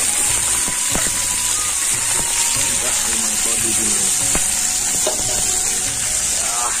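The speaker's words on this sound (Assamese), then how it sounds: "ইয়াত তেল পিঁয়াজ গৰম হোৱাৰ লগে লগে ইয়াত গাহৰি মাংস দি দিলো" Pork fries in hot oil with onions, a steady loud sizzle broken by occasional clinks and scrapes of stirring, while someone speaks nearby.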